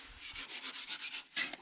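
A shovel mixes cement render in a tub for solo pool rendering. About eight rhythmic scraping strokes, close and moderately loud, then a sharper scrape near the end.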